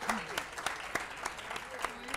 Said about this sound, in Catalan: Ara podeu aplaudir.